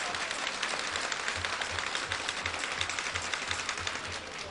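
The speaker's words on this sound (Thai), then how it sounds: "ปรบมือ" Dense, sustained applause from a large crowd, steady clapping filling the whole stretch without a break.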